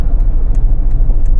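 Mercedes W124 with nearly 360,000 km on it cruising fast on the Autobahn around 180 km/h, heard from inside as a loud, steady low engine and road rumble with faint brief ticks.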